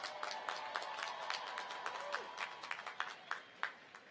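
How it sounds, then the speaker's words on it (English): Graduates at a university commencement ceremony break into applause, a fairly quiet, distant wash of many clapping hands that thins toward the end into a few separate, sharper claps. "Give yourselves a round of applause."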